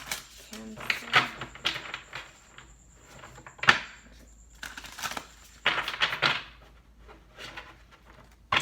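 Tarot cards are shuffled by hand in a quiet room, with irregular bursts of riffling and flapping card noise separated by short pauses and a few sharp clicks, close and fairly soft.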